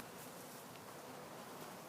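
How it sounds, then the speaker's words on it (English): A swarm of bees buzzes outdoors, a faint, continuous droning hum that stays steady and unbroken throughout. "I don't know if we can see the bees."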